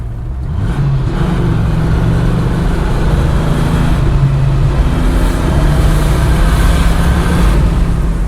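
A Dodge Viper RT10 engine pulls hard under acceleration, its low, steady roar holding loud and close for the whole stretch with no break and no voices.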